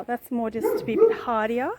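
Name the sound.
dog barking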